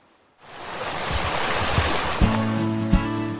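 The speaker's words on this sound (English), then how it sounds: "The soothing sounds of a bubbling creek are part of the soundtrack of life in Fairview." A creek in Fairview, in an area hit by a landslide, flows in a steady broadband rush that begins abruptly and holds at a moderate level, with a low tonal hum entering near the end and no talking.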